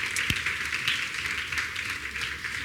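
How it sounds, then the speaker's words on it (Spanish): Congregation applauding in a church women's gathering, a steady wash of clapping from a crowd with no voices on top, fairly quiet and even throughout. "Un aplauso a Dios."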